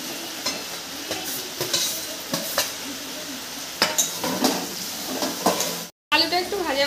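Potatoes frying in rendered goat fat in a pan, a steady close sizzle broken by repeated scraping stirs and clinks of a utensil, with a brief dropout near the end.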